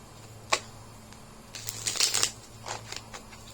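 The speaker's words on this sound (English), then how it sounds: "let's shuffle this up 2 more times" Tarot cards shuffled by hand during a reading, a sharp riffle snap near the start followed by a dense burst of flicking and riffling, then a few lighter taps, close and fairly quiet with no talk.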